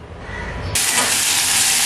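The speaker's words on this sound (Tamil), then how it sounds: "இஞ்சி, பூண்டு எல்லாத்தையுமே ஒரு 2-3 டீஸ்பூன் எண்ணெயில வந்து வதக்கிட்டு இருக்கேன்." Garlic, ginger, tomato and onion are dropped into hot oil and burst into a loud, steady sizzling hiss that continues close up; no one speaks.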